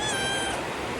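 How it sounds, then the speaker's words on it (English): A roughly two-month-old hungry kitten lets out one loud, drawn-out, high-pitched meow, close by and with no talk over it. "stop meowing"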